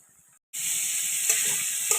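Cumin, ginger and green chili hit hot oil and burst into a loud, steady sizzle after a brief near-silence, crackling on close by with no voices.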